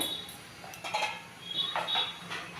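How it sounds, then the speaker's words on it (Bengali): A metal plate is set onto a steaming stand inside a wok of water, giving a few light metallic clinks and scrapes spread over a quiet background. "এই থালাটা স্ট্যান্ডের মধ্যে বসিয়ে দিলাম"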